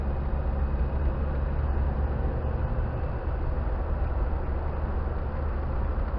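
A Land Rover Discovery 300tdi diesel coasts off throttle, a steady low drone of engine and road noise with no rise or fall, moderately quiet and continuous.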